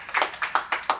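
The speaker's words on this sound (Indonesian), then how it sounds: "tepuk tangan nih buat Coach Ican" A few people clapping for Coach Ican, roughly five brisk, close hand claps in an uneven rhythm, brief and alone, with no talking over them.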